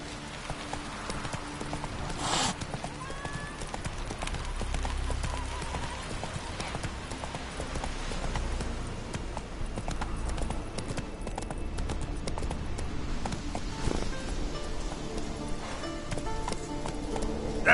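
Roach, Geralt's horse in the video game The Witcher 3, clip-clops steadily on the ground for the whole stretch, a rhythmic hoof beat over a bed of ambient game sound, rain and music.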